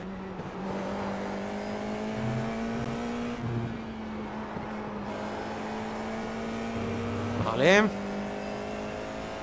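An F4 race car engine drones steadily at high revs around Okayama in iRacing, a near, sustained buzz that swells into a brief rising whine near the end. Someone talks over it.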